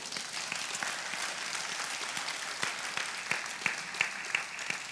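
Worshippers at a Filipino church service clap together in a steady burst of applause, with sharper individual claps standing out over the softer massed clapping.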